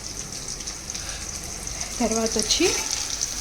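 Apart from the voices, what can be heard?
bitter gourd pakodi frying in a pan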